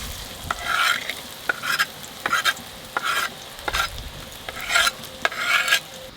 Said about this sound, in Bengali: মাছ ভাজার আগে পেঁয়াজটা ভালো করে একটু ঝুরঝুরে করে ভেজে নেব